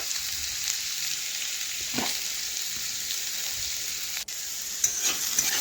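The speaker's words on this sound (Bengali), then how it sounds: "একটু লাল লাল করে ভেজে নেব।" Potatoes frying in a pan, a steady broadband sizzle holding throughout at moderate level with a couple of faint scrapes, no voices.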